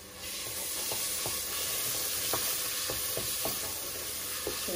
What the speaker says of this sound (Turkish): Şimdi salçamı güzelce kavuracağım. Sadece kokusu çıkana kadar.